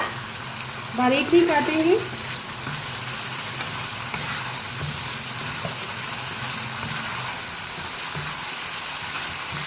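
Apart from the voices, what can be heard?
potatoes frying with masala in a pan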